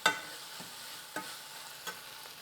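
A spoon stirs onions and cauliflower frying in oil for a cauliflower gravy. Three or four scraping strokes sound close over a steady sizzle.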